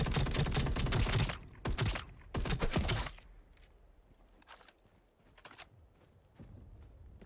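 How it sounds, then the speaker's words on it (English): A turret in the EVE Vanguard video game fires several heavy, loud bursts close by during the first three seconds, followed by quieter scattered shots and impacts further off. "I should show you what the turret looks like when shooting"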